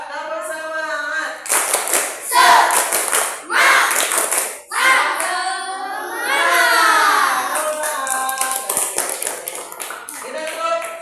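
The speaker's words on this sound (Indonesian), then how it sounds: "kita sama-sama tepuk semangat agar kita terus semangat belajar" Schoolchildren in an elementary school classroom perform a rhythmic spirit clap in bursts, with a teacher and children chanting between the clapping patterns.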